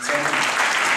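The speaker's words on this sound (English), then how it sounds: "Big round of applause." Applause from the audience at an evening awards ceremony as the keynote speaker is introduced, a dense steady wash of clapping lasting about a second, with a voice faintly mixed in.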